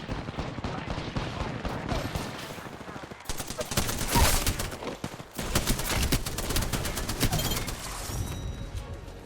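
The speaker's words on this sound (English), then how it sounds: "Getting shot." Dense, sustained gunfire from an Apex Legends match, with rapid overlapping shots and bursts filling the whole stretch, loud and close, with a brief lull near the three-second mark before the shooting resumes.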